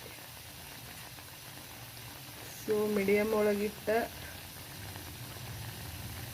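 Melted butter boils into ghee in a pan at home, a faint, steady bubbling hiss that runs throughout, with a person speaking briefly over it partway through.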